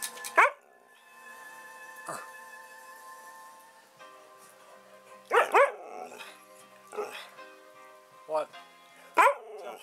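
A dog barks indoors in several short, sharp bursts spread across about ten seconds, close and loud, with a faint whine or hum between barks.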